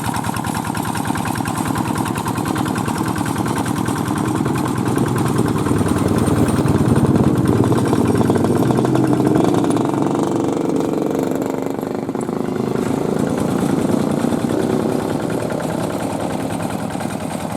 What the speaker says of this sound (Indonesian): Iki maning, traktor maning.